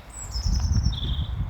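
Birds chirp outdoors on a university campus in chilly weather, with thin high calls drawn out over a low rumble of wind and nearby handling noise.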